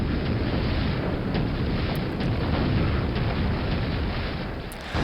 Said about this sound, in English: taking out the spawns with the plasma gun